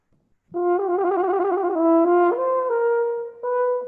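A single sustained French horn tone wavers in a quick trill ending in a Nachschlag, then settles and steps through a few held notes, played solo and fairly close.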